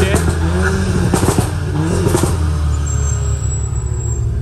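Car exhausts revving loudly at a supercar meet in Tuscany, a deep throbbing engine roar with rising rev bursts, close and sustained throughout, while people talk over it.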